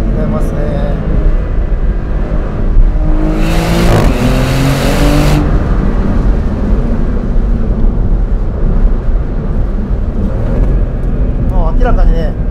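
A Maserati GranCabrio Trofeo convertible sweeps through a high-speed corner on a winding downhill road, its engine note steady and loud with a brief surge of tyre and wind roar, while someone talks over it.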